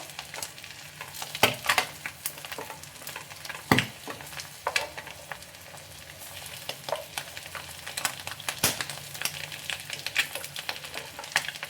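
Eggs frying in a pan with curry leaves for a spicy egg pepper fry, a continuous sizzle broken by sharp clatters of a spatula turning the eggs, with no voices.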